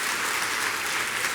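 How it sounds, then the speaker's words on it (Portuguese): Steady applause from a church congregation fills the whole short stretch, dense and even with no voices on top. "dá uma salva de palmas aí"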